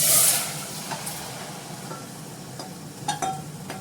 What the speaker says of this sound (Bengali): টক ডালের ডালটা দিয়ে দিই।